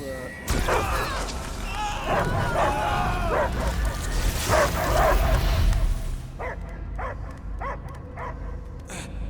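A dog in the video game Marvel's Guardians of the Galaxy barks, whines and yips. Vocal sounds come first, followed by a run of short, evenly spaced barks near the end.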